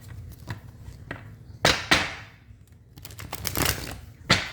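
Quick papery slaps and riffles of tarot cards being shuffled, in several short bursts with pauses between, close and fairly quiet.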